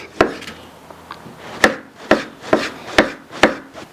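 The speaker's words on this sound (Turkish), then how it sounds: "Bu şekilde ince ince doğruyoruz." A knife slices bananas thinly onto a cutting board in steady, evenly spaced taps, close up with no talking.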